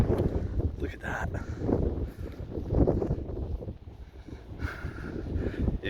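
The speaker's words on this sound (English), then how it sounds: "Oh, it's actually so windy." Strong gusts buffet the microphone on a hiking trail along the Bibbulmun Track in Western Australia, a rough, fluctuating roar under people talking.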